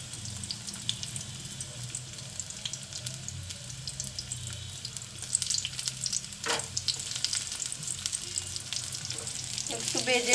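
Onion and garlic frying in hot oil, a steady close sizzle and crackle that runs throughout, with faint stirring and scraping noises partway through.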